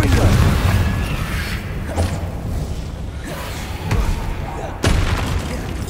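Confringo explosive spell from the video game Hogwarts Legacy, a series of booming blasts and whooshes with sharp thumps, loud and busy, layered under a voice.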